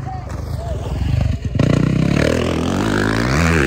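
A remapped Yamaha YZ-450 dirt bike engine revving up close, a raspy climbing roar with a rising pitch, under people talking.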